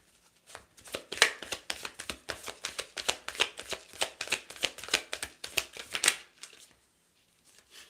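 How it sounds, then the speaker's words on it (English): A deck of tarot cards is shuffled by hand, close and crisp, in a rapid run of riffling slaps that trails off into quiet at the end. "I intentionally shuffled it to make sure it got good and mixed back in the deck"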